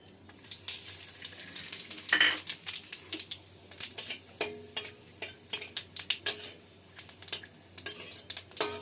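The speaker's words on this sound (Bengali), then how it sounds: "এই তেলটার মধ্যেই আমি দিয়ে দেব তেজপাতা আর সাদা জিরে।" Bay leaf and white cumin drop into hot oil left from frying potatoes, giving a crackling, spitting sizzle with a sharp burst early on, then scattered pops and clicks of a utensil against the pan.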